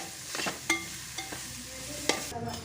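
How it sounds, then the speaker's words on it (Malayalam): Chilli powder, pepper powder and turmeric are sautéed in a pan while making macaroni with chicken. Soft sizzling runs under several sharp scrapes of a spoon stirring against the pan, fairly quiet and close. "മുളക് പൊടി, കുരുമുളക് പൊടി എന്നിവ ഇട്ട് നന്നായി വഴറ്റാം."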